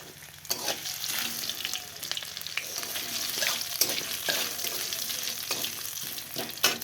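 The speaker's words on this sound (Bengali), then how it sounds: "আর এখানে যে ফোড়নে দিলাম, ফোড়ন বসিয়েছি।" Whole spices tempering in hot oil give a steady, close sizzle with scattered crackles and pops throughout, with no voices.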